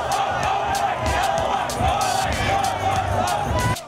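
A crowd in the stands at a robotics competition roars and cheers continuously, loud and dense with overlapping shouts and whoops.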